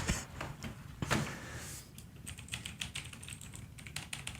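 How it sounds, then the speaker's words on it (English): Typing on a mechanical keyboard with crumb-dirtied Cherry Red switches: a steady run of quick, close keystroke clacks with a couple of heavier bottom-out thumps, alone with no talk. "So these must be Gordon's crumb stained cherry reds"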